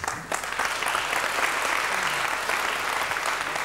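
An audience at a club gathering applauds steadily, the dense clapping loud and sustained throughout with a faint voice briefly underneath.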